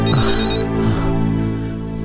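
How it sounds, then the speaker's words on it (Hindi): A telephone rings with a loud electronic ringtone melody in a dramatic indoor scene, the tune repeating clearly and steadily with no one speaking over it. "सरकार का फोन आ रहा है।"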